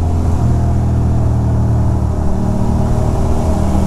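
A Ducati motorcycle engine runs close by with a loud, steady, deep rumble that holds for the whole stretch without clear rises in pitch, and no one speaks.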